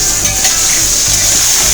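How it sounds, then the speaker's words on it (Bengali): Diced potatoes hiss and sizzle steadily in hot oil with a spice tempering in a pan, a loud, even frying crackle with faint low bumps of movement underneath. "এবার আমি এর মধ্যে আলুটা দিয়ে দেবো"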